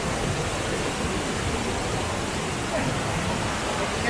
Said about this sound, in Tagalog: Sobrang waterfall.